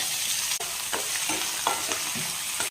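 Onion and green chillies frying in oil with spices, a loud close sizzle with repeated stirring scrapes of a spoon against the pan, no voices.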